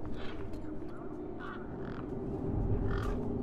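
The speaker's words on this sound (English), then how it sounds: "You see all these birds all over the place?" Crows caw in short repeated calls across a game scene in Beyond a Steel Sky, moderately near against a low background hum.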